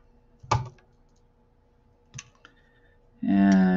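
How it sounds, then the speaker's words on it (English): Wire cutters snip excess beading wire beside a crimp bead while a shell necklace is finished, giving a sharp close click followed by a fainter second click, with a brief tonal hum at the end. "Cut off our excess wire"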